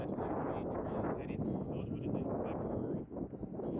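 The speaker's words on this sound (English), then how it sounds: "It's windy as hell." Strong gusty wind buffets the microphone with a constant loud roar, broken only by a brief lull near the end.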